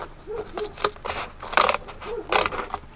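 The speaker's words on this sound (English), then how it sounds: "I'm gonna grab this one and I'm gonna cut a piece off." A piece of cardboard being cut off, heard as a series of crisp, rhythmic crunching snips, close and fairly loud, with a couple of heavier rasping cuts near the end.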